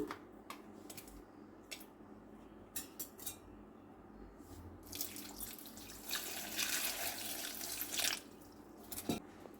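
Running water splashes into a bowl of soaking tamarind, with clinks of a utensil or dish; the flow swells louder partway through and is fairly close.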